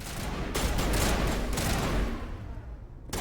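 Rapid bursts of gunfire from a Mass Effect combat scene crackle in dense, overlapping volleys, loud and sustained before thinning out toward the end.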